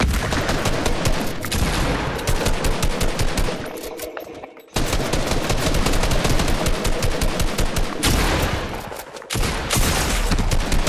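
Rapid automatic gunfire from a Fortnite 1v1 build fight rattles in long continuous bursts, loud and dense, with one brief pause near the middle before the firing resumes at full pace.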